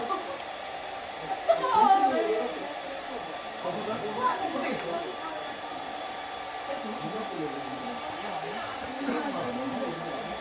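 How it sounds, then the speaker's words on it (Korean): A hair dryer blows hot air to evaporate water in an elementary school classroom, a steady whooshing hiss that runs throughout while children's voices and chatter rise and fall underneath. "헤어드라이기로 물을 증발시켰을 때 색깔 변화를 한번 관찰해봐."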